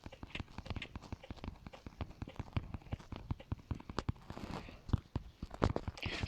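Horse hooves clip-clop in a Roblox video game, a steady run of sharp, even knocks at moderate loudness over faint background noise.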